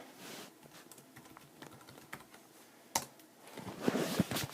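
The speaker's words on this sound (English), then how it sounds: "I'm going to set this down while I type this in" Password being typed on a computer keyboard in a home setup, heard as a run of quick, close key clicks with uneven rhythm, growing louder and busier toward the end, no talking.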